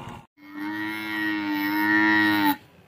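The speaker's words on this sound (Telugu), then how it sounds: "గేదెలు గిత్తలు దూడలు ఎద్దులు చూసుకొని మీకు నచ్చితే కనుక కొనుక్కోండి" A single long, loud moo rings out from cattle at a large buffalo and bullock market, a sustained tonal call lasting about two seconds after a short pause.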